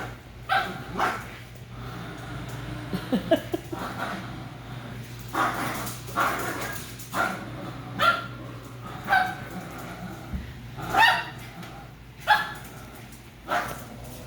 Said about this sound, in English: How can you bark with a mouthful of bunny?